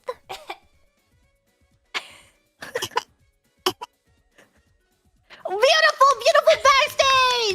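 Short, scattered baby-style coughs, apparently imitated by a voice at an online award show, come in sparse bursts and then give way to a louder run of strained, wheezy vocal coughing near the end.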